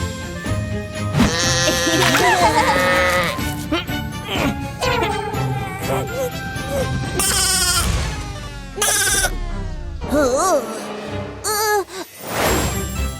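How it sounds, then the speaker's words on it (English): Animated farm sheep let out a string of quavering bleats over light music and small jingles, the calls coming in bursts that rise and fall in pitch. "There are sheep there."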